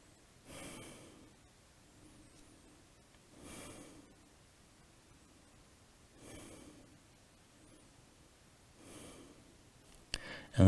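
Slow, deep breaths during a yoga forward fold in a short vinyasa flow, four soft breathy swells spaced a few seconds apart with quiet gaps between, close and gentle, ending in a brief louder rustle.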